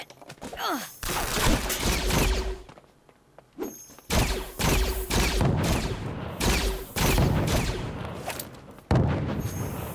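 In Disney Infinity 3.0, enemies fire at the player in rapid bursts of sharp shots and impacts. Loud, close volleys keep recurring with brief gaps between them, and short electronic game tones sound between the bursts.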